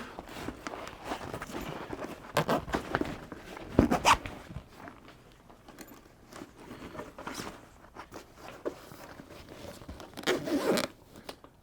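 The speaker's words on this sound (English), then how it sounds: "And then this zips up." A zipper being pulled closed in several short, raspy strokes, close up, with soft rustling and handling noises between pulls.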